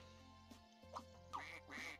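Cartoonish duck quacks from the video game Scribblenauts Unlimited, three short separate quacks over steady background game music, with no talk.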